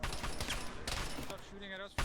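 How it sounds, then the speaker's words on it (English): Rapid bursts of close video-game gunfire crackle almost continuously for about two seconds, with voices talking over parts of the barrage. "Stop shooting at us."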